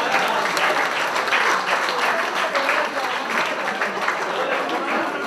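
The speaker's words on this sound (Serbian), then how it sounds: "Ajmo aplauz, može?" Audience applause at a Bunjevac winter gathering in Čonoplja, dense sustained clapping from a crowd, loud and even for several seconds with no pause.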